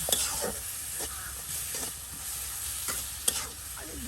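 Taro (dudh kochu) stir-fried in a pan in a village kitchen gives a steady, close sizzle broken by repeated stirring scrapes every half second or so.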